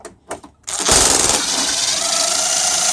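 A loud, steady mechanical whine starts abruptly after a few short clicks and runs continuously at close range, as a power drill spins while installing headlights on a Ram truck.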